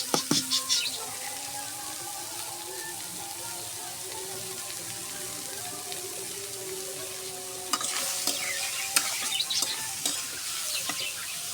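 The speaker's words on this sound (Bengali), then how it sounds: "পেঁয়াজ গুলো দিয়ে দেব। সবগুলাই দিয়ে দেবো। বেরেস্তা ভাজে নেব।" Sliced onions fry in hot oil to make crisp beresta for chicken roast. A strong, steady sizzle runs throughout, with sharp clinks and scrapes of a spatula stirring the pan up close.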